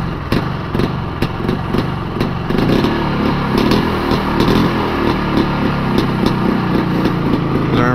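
A Polaris Scrambler 400 ATV engine with an untuned carburetor runs and idles close by, loud and steady with a rapid, slightly uneven putter that firms up after a few seconds.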